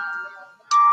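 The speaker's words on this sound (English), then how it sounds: "The phone is ringing." A phone ringtone plays near and fairly loud, an electronic tone that fades briefly and then returns stronger and steadier.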